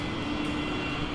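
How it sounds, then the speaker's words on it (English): Hercules C-130 propeller transport planes taking off from Israel, a loud, steady engine roar with a constant droning hum and no talk over it. "an armada of four Hercules C-130 planes takes off from Israel"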